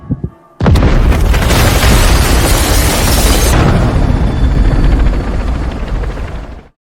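A suicide bomb in a film detonates inside a building with escalators, a sudden massive boom after a quiet lead-in, followed by several seconds of loud roaring debris and rumble that slowly fades.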